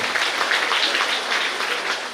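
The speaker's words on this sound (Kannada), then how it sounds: "ಅವರಿಗೆ ಮಗದೊಮ್ಮೆ ನಾವು ಚಪ್ಪಾಳೆಯನ್ನು ತಟ್ಟಿ ಅಭಿನಂದಿಸೋಣ" Audience applause at the inauguration of a gate and grotto at St. Sebastian Church in Permannur, a steady dense patter of many hands clapping, fairly loud and sustained with no talk over it.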